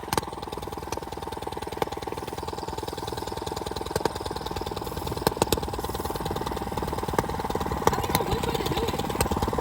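A 105cc minibike engine runs continuously outdoors with a rough, buzzing idle that rises slightly toward the end, fairly close and steady, with no one speaking over it.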